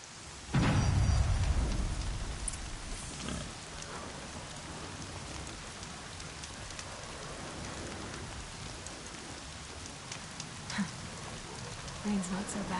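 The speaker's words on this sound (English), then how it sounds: "Rain's not so bad." Steady rain hisses across open wilderness in Horizon Zero Dawn, opening with a deep rolling rumble of thunder, then continuing as a dense, even downpour with scattered louder drops.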